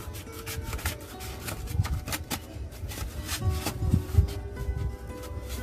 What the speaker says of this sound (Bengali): এই থার্মোকলের থালা এবার আমি ঠিক এইভাবে আমরা কেটে নেব